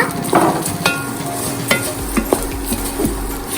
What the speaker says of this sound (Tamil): வத்தலை போட்டுக்கலாம். அப்புறம் வத்தலை வந்து நல்லா மிக்ஸ் பண்ணிக்கோங்க.